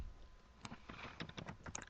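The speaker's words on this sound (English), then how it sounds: "I am typing it in." Fingers typing on a computer keyboard, a quick irregular run of light clicking keystrokes close by, fairly quiet, with no voices.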